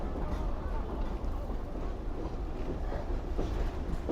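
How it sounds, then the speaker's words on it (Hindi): A train pulls slowly out of Sukkur railway station on a foggy winter journey, its steady low rumble and rolling clatter continuous and close throughout. "आहिस्ता आहिस्ता ट्रेन हमारी निकल रही है सक्खर रेलवे स्टेशन से।"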